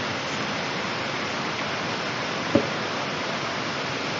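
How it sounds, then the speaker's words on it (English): A small waterfall in the Minecraft video game gives a steady, even rush of falling water throughout, with one brief soft click partway through. "This little waterfall scenery here."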